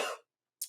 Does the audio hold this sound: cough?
yes